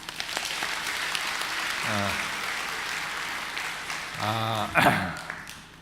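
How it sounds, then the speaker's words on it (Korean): A church congregation applauds after a choir's performance, a steady wash of clapping from many hands, with a voice speaking briefly over it twice. "우리 한번 박수 보내주시죠."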